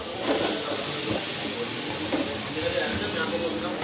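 Tomatoes, carrots and green chillies cook in a pan: a steady, broad sizzle and hiss that continues without a break, close and fairly loud.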